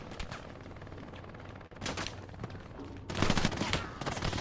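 Drum-magazine gunfire rattles through a Hell Let Loose battle at the Driel brick factory, a dense mix of rapid shots that grows louder and busier toward the end, with brief speech mixed in.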